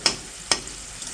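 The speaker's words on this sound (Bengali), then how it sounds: "লবণ, হলুদ, মরিচ সব কিছু দিয়ে আমি একটু কষিয়ে নেব।" Salt, turmeric and chili powder frying in a pan with oil, giving a steady soft sizzle broken by two brief scraping strokes of a stirring spoon.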